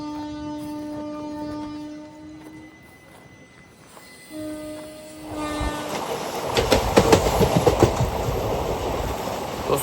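A Rajkot to Bhuj train rolls along the track, its horn sounding in long steady tones at first, then the rumble and rattle of the cars grows louder and busier.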